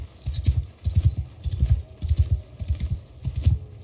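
Hooves of an old, poor-quality horse drum steadily in a charge in the video game Bannerlord 2, an even, close galloping beat that goes on without pause.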